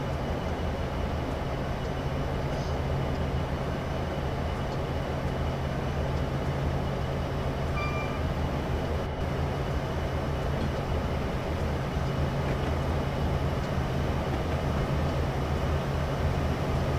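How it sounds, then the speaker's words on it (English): An AI-driven train passes on the Horseshoe Curve in Train Simulator 2015, its steady low rumble and rolling drone holding unchanged and fairly loud across the whole stretch with no talking. "here's another AI train coming in the other direction"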